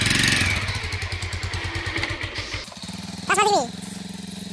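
A motorbike engine runs with a steady, throbbing rumble for the first few seconds, then fades as a voice takes over near the end.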